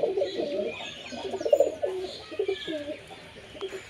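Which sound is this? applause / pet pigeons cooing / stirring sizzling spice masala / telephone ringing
pet pigeons cooing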